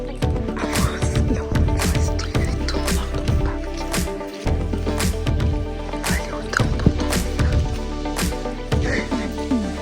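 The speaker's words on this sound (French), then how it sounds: "On se réveille avec ce bruit là. C'est dommage qu'il pleuve." Rain drips outside in the morning, with irregular close drops tapping over a steady, soft wet patter throughout.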